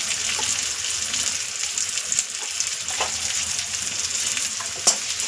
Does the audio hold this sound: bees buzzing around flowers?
no